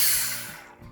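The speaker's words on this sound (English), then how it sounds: "crack open this can" A Guinness Nitrosurge beer can cracks open with a sharp burst of hiss that fades away over about a second.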